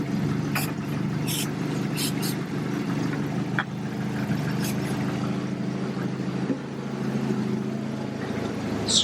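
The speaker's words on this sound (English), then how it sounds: "We see a change in the idle." A Jeep engine idles steadily at close range, a low continuous rumble with slight shifts in its note, while people talk over it now and then.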